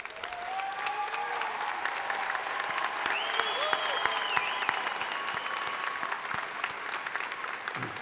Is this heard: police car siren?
no